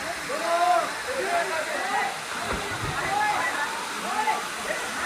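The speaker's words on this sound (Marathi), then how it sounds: "काय वॉटरफॉल आहे, एक नंबर आहे." A monsoon waterfall at Khopoli pours in a steady, full rush of falling water that runs unbroken through the whole stretch, with voices speaking over it.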